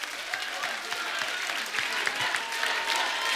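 Studio audience on a TV comedy show applauding for Tiger Shroff, a dense, steady clapping crowd at moderate level throughout.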